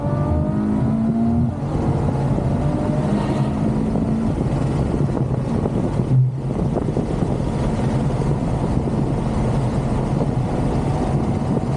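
A Ferrari GTC4Lusso accelerates hard on the road, its engine roaring loud and close in a continuous rising drone, with a brief dip as it shifts partway through.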